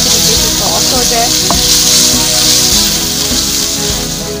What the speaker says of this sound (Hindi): इसे 5 से 7 मिनट के लिए और थोड़ा सा हम लाइट फ्राई करेंगे ताकि चिकन जो है हमारा